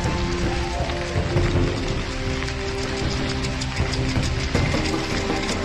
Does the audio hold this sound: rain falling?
yes